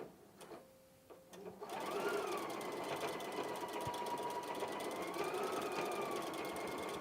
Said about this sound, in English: It's very quick and easy, and it's overlocking and sewing it all at once.